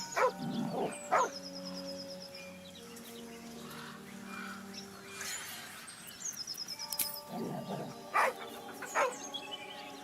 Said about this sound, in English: The dog lowers his hackles, his head tilted inquisitively.